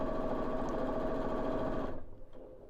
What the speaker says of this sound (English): I'm literally just top stitching down either side of that